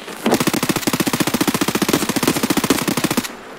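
Rapid automatic gunfire from a first-person shooter video game, one sustained burst of evenly spaced, closely packed loud shots lasting about three seconds before cutting off abruptly.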